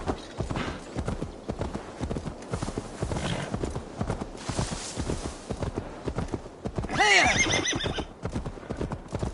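Horse hooves clip-clop steadily through Assassin's Creed Valhalla, with a loud, close neigh rising near the end, all over a busy in-game background of movement and ambience.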